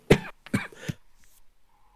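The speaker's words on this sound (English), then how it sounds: "what's bad for audio is someone coughing into the mic" A person coughs a few times in quick succession, close to the microphone, over about a second, then quiet.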